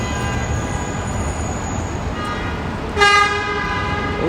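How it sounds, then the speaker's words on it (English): A single short car horn blast cuts through steady New York City street traffic noise near Times Square, loud and close against the constant background rumble. "they're already honking already"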